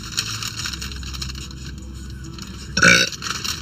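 A girl gives a short burp close to the mic near the end, rising briefly over a steady background hum.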